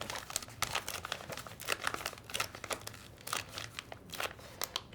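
A disposable plastic piping bag for meringue being folded gives soft, close crinkling and rustling in irregular bursts, fairly quiet, with no talking.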